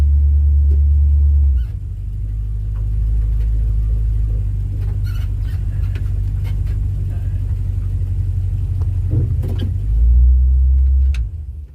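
A Ford Fairlane engine idles high at about 1500 RPM with a suspected PCV valve fault, a deep steady rumble that dips briefly and then swells again near the end, close and loud, with faint clicks and no talking.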